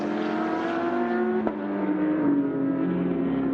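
Ferrari and Porsche race cars at the Sepang 12 Hours endurance race, their engines holding a loud, sustained high whine, with pitch slowly falling and shifting as they pass, plus a brief sharp click partway through.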